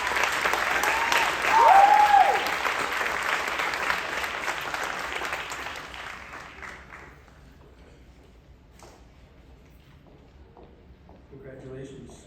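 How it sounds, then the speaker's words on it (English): An audience at a high school scholarship night applauds a student recipient, a broad, steady burst of clapping that dies down after about six seconds. Quiet talk follows near the end. "I'd like to give her a round of applause."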